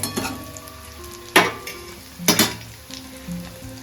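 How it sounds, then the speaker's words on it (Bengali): Chicken pieces fry in a pan for home-style chilli chicken, a low sizzle broken by two brief louder scrapes of stirring, close by and without voices. "তো এটাকে সুন্দর করে একটু ভেজে নিই"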